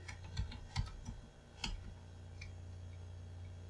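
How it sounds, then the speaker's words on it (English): Typing on a computer keyboard at a Commodore 64 setup, a few soft scattered keystrokes close by in a quiet room, followed by low steady hum. "So I go back and I type in load again."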